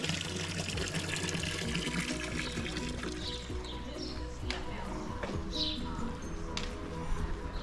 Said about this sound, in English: You'll find these fountains all over the place for pilgrims to refill their water bottles